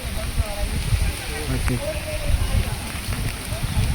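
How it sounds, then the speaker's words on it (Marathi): Steady rain falls over a hiking trail on a monsoon trek from Panhala to Pavankhind and Vishalgad, a dense close hiss filling the whole stretch with low rumble beneath and brief voices faintly in the background. "पाऊस पण सुरू झालेला आहे."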